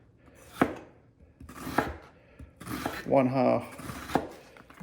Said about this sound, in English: the onions cut into chunks, you just slice it accordingly